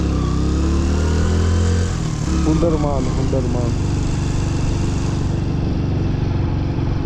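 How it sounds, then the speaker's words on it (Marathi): A light vehicle engine drones loudly and steadily up close on a road in a Ladakh village, with a voice speaking briefly over it. "चलो आली गाडी मित्रांनो"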